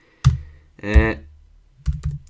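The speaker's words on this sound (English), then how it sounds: "Alright, let's type this in." A computer keyboard gives a few brief, close typing clicks separated by pauses, with a short voice-like sound in between.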